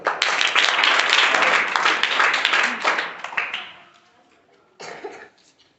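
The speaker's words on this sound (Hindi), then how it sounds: "चलो ताली बजा दो" Students in a classroom break into a burst of enthusiastic clapping lasting about four seconds, fading out, with a short second round of claps near the end.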